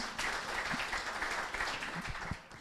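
Audience applause at a business lecture: a steady wash of many hands clapping at moderate volume, continuing evenly through the clip with no speech over it.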